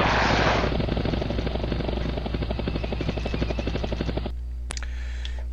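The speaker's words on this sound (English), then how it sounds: "Come on, Apaches! They should be just slaughtering him with their Hellfire missiles" Apache attack helicopters in a war video game firing on a tank: a loud, fast rhythmic chopping of rotors and rattling fire runs steadily for about four seconds, then cuts off, leaving a couple of sharp short bangs and quiet.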